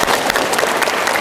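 Lively applause from an audience at a university student character-building webinar, a dense, steady burst of clapping filling the whole short moment without any voices.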